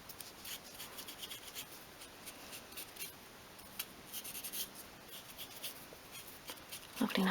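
A marker pen colours a tiny wooden piece for a 1/12th scale garden shed, giving soft, close, continuous scratchy strokes that are faint and steady, briefly louder near the end.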